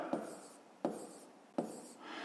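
Pen writing on paper during a fifth-grade maths exercise, three short scratchy strokes at roughly even intervals, close and quiet, with no talk over them.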